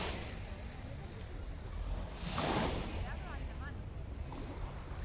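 Sea waves wash onto a beach in Málaga under steady wind noise, a broad continuous rush swelling once near the middle, with faint voices in the background.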